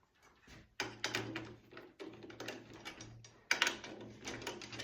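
Tension rods on a bass drum are turned with a drum key, making close, quiet ratcheting clicks and metallic creaks in short bursts separated by brief pauses.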